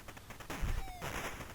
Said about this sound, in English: then use my cannon to kill those guys at the top there